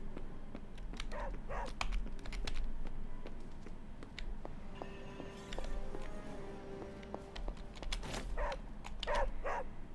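A dog named Charlie barks in Marvel Midnight Suns, several short yips and barks spread across the clip over a quiet background with a faint tonal hum.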